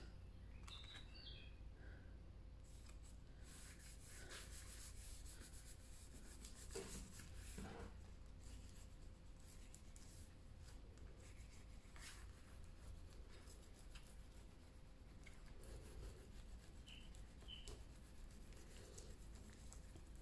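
Paper being rubbed flat by hand across a decorated folio to push out trapped air, a soft continuous scuffing texture over steady low background hum, with a few faint high chirps.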